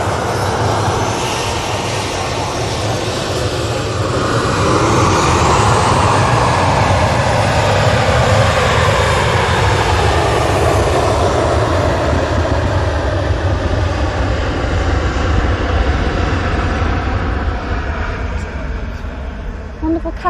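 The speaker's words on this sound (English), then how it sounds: "I'm going to get drowned out by a Ryanair here" A Ryanair airliner passes loudly at Manchester Airport, its powerful engine roar building and sustaining for the whole stretch with a sweeping pitch shift as it goes by, close and dominant.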